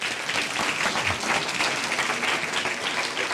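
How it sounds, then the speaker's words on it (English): Dense, steady clapping from a sizeable theater audience for a guest speaker fills the whole stretch, even and sustained without letting up. "give a round of applause to our guest speaker, Mr. Jeff Speck"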